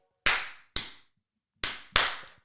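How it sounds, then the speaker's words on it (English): Four sharp hand claps, close and loud, in an uneven pattern of two, a pause, then two more, each with a short decaying ring and silence between, given to mark the start of a podcast recording. "I have to clap so my producer knows that I am beginning."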